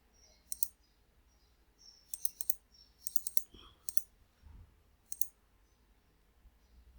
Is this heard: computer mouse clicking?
yes